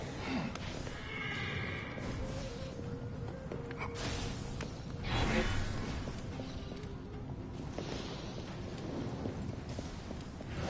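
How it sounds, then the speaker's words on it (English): A horse in Assassin's Creed Origins whinnies amid muffled thuds and clip-clopping hooves, heard over a dense, murky background rumble. "I keep hearing a horse neighing and it's very eerie."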